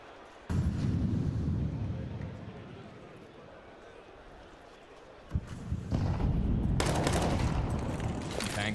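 Bursts of M4A4 rifle fire in a competitive Counter-Strike match, with a loud onset, a sustained rattle, then a second heavy burst of gunfire joined by other shots, under excited commentary.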